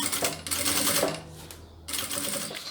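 A sewing machine with a presser foot stitching the sides of a plastic zipper pouch, rapid needle clatter in two bursts separated by a short pause, close and loud.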